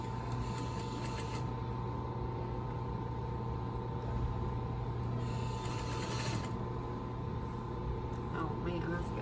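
A sewing machine stitches a detached garment lining to its facing, a steady low mechanical whir running throughout at moderate level, with brief brighter hissy bursts and a talking voice faintly underneath.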